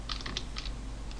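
A few quick, light keystrokes on a computer keyboard form a short burst followed by a lone tap after a pause, faint and close against a quiet background hum.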